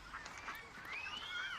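Ducks on a park lake call out in a run of overlapping, nasal quacks and honks, close by and fairly loud over a steady outdoor background.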